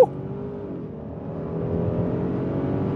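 A twin-turbo V6 AWD GTR with 365 horsepower revs hard from close by, its engine note dropping as it shifts and then climbing again as it accelerates.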